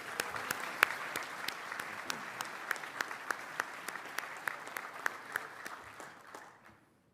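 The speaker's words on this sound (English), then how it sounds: "Another round of applause for Team UK." An audience at a Pacific land forces conference applauds Team UK, a dense, steady wash of many hands clapping at a distance with sharper claps poking through, fading out toward the end.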